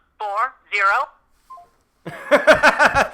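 Telephone keypad tones dialing into a voicemail box, a short pair of sharp beeps at moderate level, followed by a person starting to talk.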